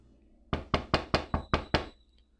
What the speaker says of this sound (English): we heard a knock on the front door